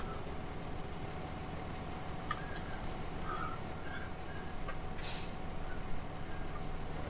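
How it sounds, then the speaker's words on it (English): On a farm vehicle in a field, a steady engine rumble idles throughout. About two-thirds of the way in, the air brake releases with one short, sharp hiss. "Take off the brake"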